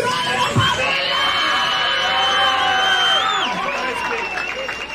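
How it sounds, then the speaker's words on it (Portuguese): Crowd at a rap battle cheering, shouting and whooping with some applause, a loud continuous roar of many voices. "Uma salva de palmas pro batalha do"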